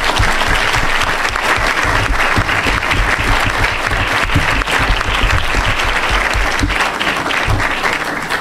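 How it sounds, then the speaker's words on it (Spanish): A seated audience at a Mexican panel discussion on social participation and justice bursts into loud, sustained applause to welcome three speakers, dense clapping holding steady for the full stretch with no talk over it. "yo creo que los podemos recibir a los tres con un fuerte aplauso"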